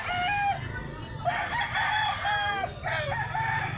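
A 14-month-old Limon gamecock rooster crowing several times in close succession at a rooster sale in Mantalungon, Cebu, loud and near over a busy background of other birds and farmyard noise.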